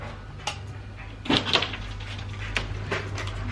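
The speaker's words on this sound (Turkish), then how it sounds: "kapıyı açalım. Bir tane abi var kapıda." A home door is opened for a visitor, giving a short click and a soft thump in the middle of the clip over a low background hum.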